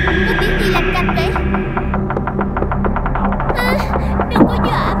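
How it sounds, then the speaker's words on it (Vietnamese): A broken ventilation fan drones with a loud, steady throbbing hum that pulses continuously, with rhythmic tapping-like beats layered over it and a brief higher rattle near the end. "Quạt gió lại bị hỏng rồi"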